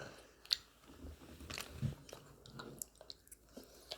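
Someone biting and chewing beef jerky close up, soft crunching and squishy chewing sounds in an irregular rhythm, quiet and without talk.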